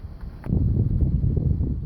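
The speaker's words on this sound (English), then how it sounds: "Kind of windy down here." Wind gusts against the microphone beside the Napa River at Cuttings Wharf in the Carneros region, a low rumbling buffeting that swells after a brief quieter start and holds steady.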